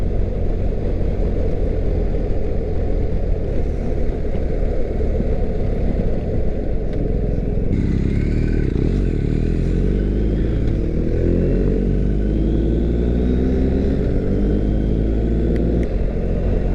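A motorcycle rides a main road through Christmas Hills toward Yarra Glen on a hot day, its engine droning loud and close with rising and falling revs and steady wind rush.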